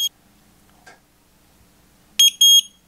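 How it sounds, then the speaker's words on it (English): A eufy indoor camera gives two sharp electronic beeps in quick succession during a factory reset, close and clear after near silence. "hold the button in, this button, for 10 seconds until I hear two beeps"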